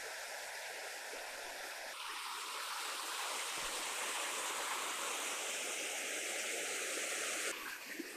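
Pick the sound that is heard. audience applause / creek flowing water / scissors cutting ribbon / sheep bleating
creek flowing water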